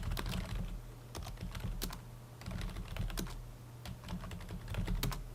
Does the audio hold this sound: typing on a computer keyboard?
yes